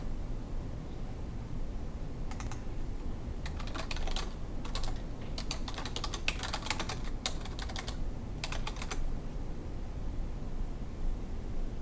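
Keys on a computer keyboard are typed in short bursts of quick clicks while a chart title is entered, faint against a steady hiss of background noise, with pauses between the bursts.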